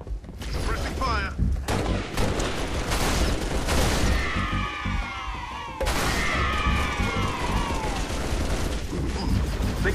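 Sustained gunfire in Halo Reach on a combat level, a dense fusillade of rapid shots and heavy bursts with sweeping whooshes of projectiles, loud and close throughout, with a few shouted voice lines mixed in.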